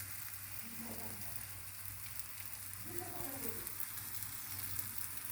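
A pancake sizzles in a frying pan as it is flipped, a steady soft hiss close by with faint voices murmuring in the background.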